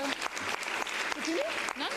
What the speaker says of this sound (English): I want everyone to just clap and raise your hand and applaud for the MEPs